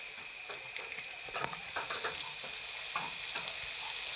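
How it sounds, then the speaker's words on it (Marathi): Garlic, green chilli and coriander thecha frying in hot oil, a steady bright sizzle with scattered pops and crackles throughout, close and continuous with no talking. "हे असं फ्राय होतंय ना त्यावेळेस आपण हा जो लसूण मिरची कोथंबीर ह्याचा जो ठेचा केलेला हा ठेचा"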